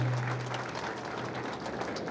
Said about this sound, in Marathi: एकदा जोरदार टाळ्याने आपण त्यांचा सन्मान करूया